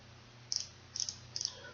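Three quick sets of small plastic clicks come from a Maybelline Instant Age Rewind corrector pen as it is twisted. They are close and crisp, with short pauses between them.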